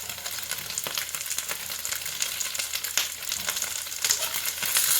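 Red pepper hits a hot skillet of country breakfast mash with garlic and leftovers, giving a steady, close frying sizzle with crackles and faint stirring scrapes throughout, no voices.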